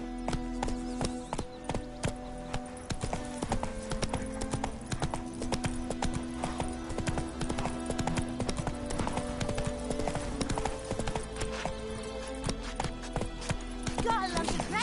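A horse gallops in The Witcher 3 on PS5, its hooves pounding in a steady, continuous clip-clop rhythm throughout. Game music plays underneath and someone speaks at points over the hoofbeats.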